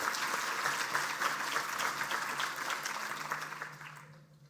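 Conference audience applauds the event organizers, a steady dense wash of clapping that holds strong before thinning and fading toward the end.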